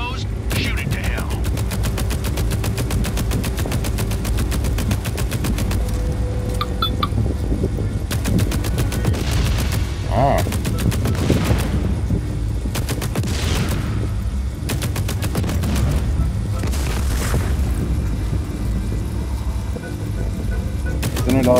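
Sustained video game gunfire pours onto an exposed relay as a machine is brought down, dense bursts of shots and impacts running nearly continuously over a low rumbling engine-like drone, with voices talking over the action.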